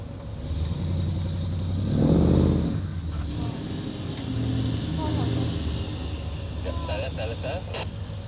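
A truck engine revs while pulling a bogged caravan out of sand, a moderate drone that swells and eases twice, with people talking over it and faint clinks near the end.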